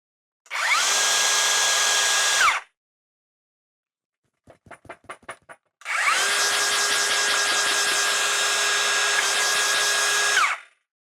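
A repaired DeWalt DCS570B cordless circular saw runs up to a steady, loud whine for about two seconds, stops, then after a few short clicks spins up again for a longer run of roughly five seconds.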